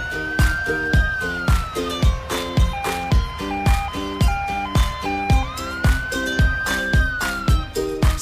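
Cartoonish ambulance siren in a children's transport video game, a wailing tone rising and falling over a bouncy repeating musical beat, loud and steady throughout with no talking.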